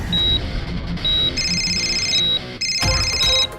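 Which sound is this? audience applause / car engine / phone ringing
phone ringing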